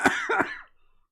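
A person coughing twice in quick succession, close and fairly loud, the second cough drawn out before trailing into silence.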